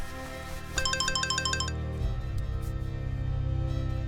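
A phone ringtone plays a short repeating electronic chime melody for about a second, then cuts off, leaving a low steady background hum indoors.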